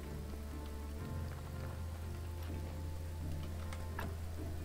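Rain falls in the video game Graveyard Keeper as a quiet, continuous patter of drops, with a few sharper ticks scattered through the steady hiss over a low hum.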